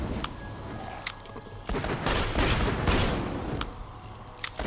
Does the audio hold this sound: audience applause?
no